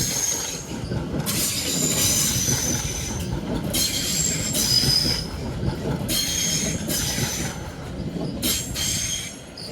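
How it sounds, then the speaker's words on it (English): A class 730 electric train departs London Euston, with a steady rolling rumble and recurring high wheel squeals in regular bursts as the carriages pull away, fairly close and continuous. "And at the same time, 730 218 departs for Milton Keynes Central."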